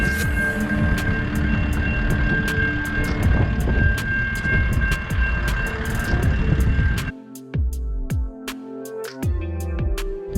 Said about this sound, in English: How about that train, eh?